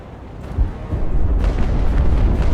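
Heavy cannon broadsides booming between sailing warships in a naval battle game, Ultimate Admiral: Age of Sail, at the Battle of Copenhagen, with deep rumbling blasts building and overlapping into a loud continuous barrage.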